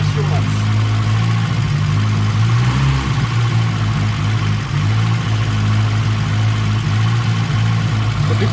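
A Peugeot 205 engine idles steadily with a droning intake hum that stays even and fairly loud throughout, while voices talk faintly over it.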